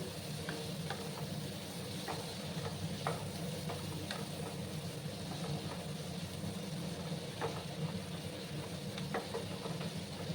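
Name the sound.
bitter gourd frying in a pan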